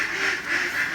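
Ducks quack in a steady, fairly loud nasal chatter that runs without a break, with no voices over it.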